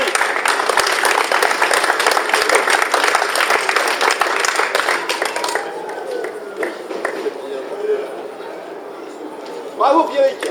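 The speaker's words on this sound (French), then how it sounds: "On l'applaudit." Applause for a university prize winner at the KIDAM 2012 trophy award ceremony, loud sustained clapping that thins out after a few seconds into scattered claps with voices talking over it.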